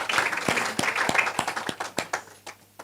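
Applause from an audience at a university faculty research day, a run of scattered hand claps that thins out and fades toward the end, heard alone without voices.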